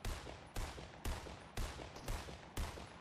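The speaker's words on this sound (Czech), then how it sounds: "už to po nás střílí" Gunfire in the Fortnite video game: six sharp, evenly spaced shots about half a second apart, each a loud broadband crack with a decaying tail, with no talk over them.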